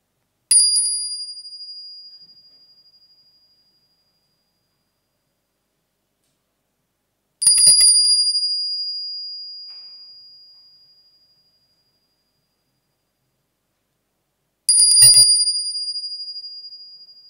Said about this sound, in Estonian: Ja ma helistan seda mõned korrad, seda kellukest.